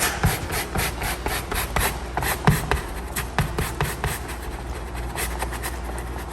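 Carpet being scrubbed with a stiff brush during professional detailing, rhythmic close rubbing strokes in quick repeated bursts with no talk.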